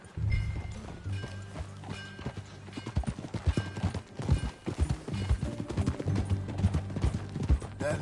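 Horse hooves clip-clop in Red Dead Redemption 2, a close, rhythmic trotting beat with uneven loudness and a brief snort or whinny.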